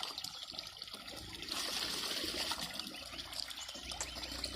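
A village stream or spring trickles and burbles steadily, a continuous close, soft rush of flowing water with no one speaking.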